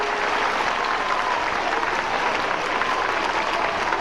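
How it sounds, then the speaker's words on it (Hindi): Loud, sustained audience applause fills the whole stretch at a school event, a dense steady wash of clapping with crowd noise and no break. "तालियां बजे"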